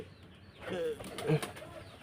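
Household pigeons kept at home give a couple of short, low coos with a soft flutter, brief and fairly quiet, with a voice murmuring faintly nearby.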